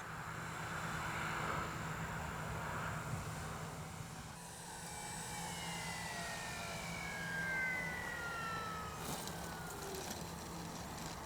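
A Dynam DHC Beaver V2 RC airplane drones overhead, its electric motor whining with rising and falling pitch as it passes at moderate distance, fairly faint against open-air background.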